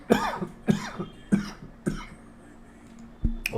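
A sick man coughs at home, four or five separate harsh, close coughs spaced about half a second apart with a pause before the last.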